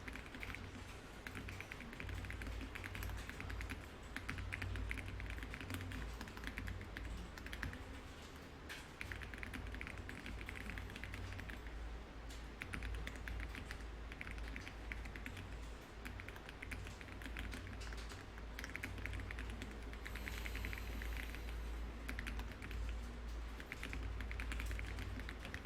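Steady, quiet typing on a computer keyboard in a computer class, rapid irregular key taps continuing throughout with occasional heavier keystrokes and a faint background hum.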